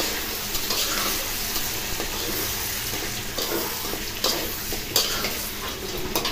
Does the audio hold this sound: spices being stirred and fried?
yes